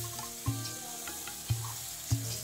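Pasta is stirred in a pan with a quiet sizzle underneath, and three soft knocks of the spoon against the pan land at roughly even intervals.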